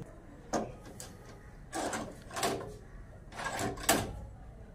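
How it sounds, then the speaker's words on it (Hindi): Wooden chicken coop door being pulled shut in a Pakistani village yard, a few scraping knocks and bumps spaced over several seconds, close and fairly quiet. "जी अब मैंने दरवाजा बंद कर दिया है"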